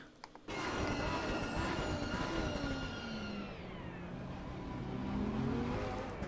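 A BMW M6 GT3 race car engine in the video game Assetto Corsa Competizione roars loudly and steadily at Spa, its pitch gliding down and back up as it revs, with no voices.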